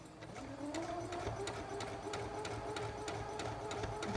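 A sewing machine runs steadily, its needle stitching with a fast, even rhythmic chatter to reinforce a cloth rag doll, close and continuous with no talk over it.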